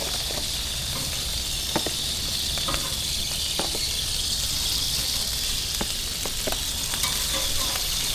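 Hamburgers and sausages sizzle on a Blackstone griddle, a steady close crackle with scattered small pops and ticks running unbroken from start to finish.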